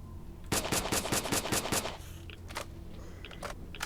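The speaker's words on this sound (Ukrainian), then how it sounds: "Мої постріли взагалі не реєструються." Rapid machine gun fire from the video game S.T.A.L.K.E.R. Shadow of Chernobyl, a burst of about eight evenly spaced sharp shots over one and a half seconds, followed by a few scattered clicks and impacts.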